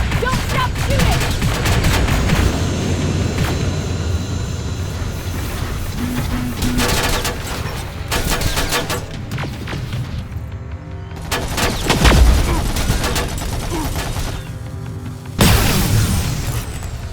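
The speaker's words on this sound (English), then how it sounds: "Don't stop shooting!" Dense, continuous gunfire in the shooter Terminator: Resistance, with rapid automatic bursts, heavy booms and explosions layered over one another for the whole stretch, and shouted voices breaking through now and then.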